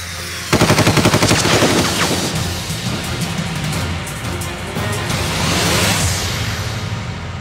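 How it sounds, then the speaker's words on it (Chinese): Gunfire in a kung fu action film, with a sudden burst of rapid automatic shots followed by further loud bangs and whooshing impacts, dense and close with no speech. "有枪声！"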